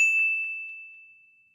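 A single bright ding from a novelty doorbell on a game title screen, one clear metallic tone ringing out and slowly decaying.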